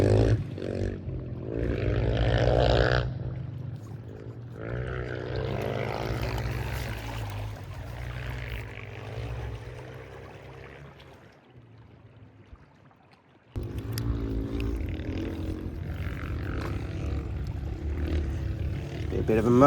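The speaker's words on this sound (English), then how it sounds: "Be a bit of a motorcycle club coming through," A group of motorcycles rides past along cliff tops on the Yorke Peninsula, their engines a loud, rumbling roar that swells and fades, drops away briefly, then surges back in close.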